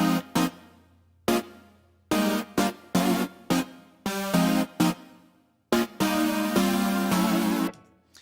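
Jazzy chords played in unison by two instruments, heard in a fat jazzy beat as short, choppy stabs and sustained bursts in an irregular rhythm, loud and close with no talk.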